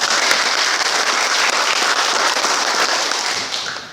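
Church congregation at a Sunday worship service clapping in praise, a dense, loud, continuous wash of applause that holds steady for several seconds and then tapers off near the end, with no talk over it.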